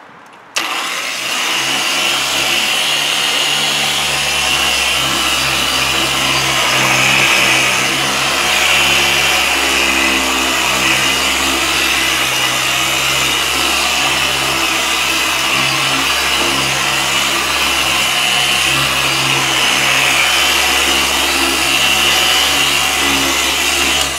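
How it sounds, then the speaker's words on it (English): A car polisher set to speed 3 spins up quickly and then runs as a loud, steady motor whine with a constant buzzing hum, close by and without talk. "I'm going to put the polisher on speed 3"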